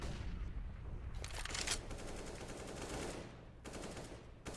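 Rapid AK rifle fire in a Counter-Strike match, quiet and somewhat distant, with automatic bursts repeating across the clip and no voices.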